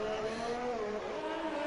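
A race car engine in a racing video game on the Hungary circuit accelerates hard out of the final corner, a loud, steady high-pitched whine rising in pitch, with no voices.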